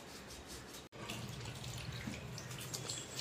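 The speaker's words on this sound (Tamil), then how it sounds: "கழுவ போறேன். நல்லா கைய தேய்ச்சி" Running tap water splashes steadily over hands being washed at a sink, a continuous close hiss with one brief break near the start.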